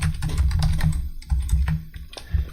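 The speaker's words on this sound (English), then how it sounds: "that's my cat using the litter box" A cat scratches in a litter box with rapid, dry, rhythmic clawing and rustling of litter, close and fairly loud, in short bursts separated by brief pauses.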